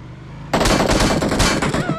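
Burst of rapid automatic gunfire in a video game erupts suddenly after a quiet start and continues loud and dense to the end.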